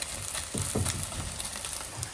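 Beaten egg scrambles in hot oil in a pan, a steady close sizzle broken by a few scraping stirs and soft clatters, with no talking.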